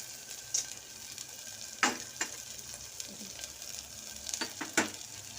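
Masala for Maharashtrian katachi aamti roasting in a pan, a soft steady sizzle with a few sharp clinks of a spoon stirring against the metal, heard alone with no talk.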